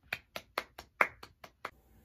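Eight separate hand claps ring out in a steady rhythm, close and crisp with short gaps between them, followed by faint room tone.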